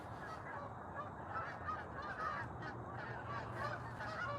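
A flock of geese honks continuously in the distance, overlapping calls rising and falling, somewhat faint and muffled as if heard from indoors.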